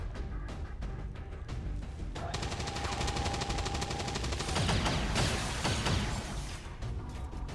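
Sustained bursts of automatic gunfire from the turn-based strategy game XCOM 2, rapid and fairly loud with dense clattering volleys across the whole stretch and a brief tonal whine mid-way, no talking.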